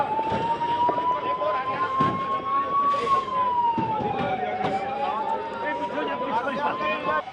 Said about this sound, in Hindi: तो लगातार सायरन बज रहा है।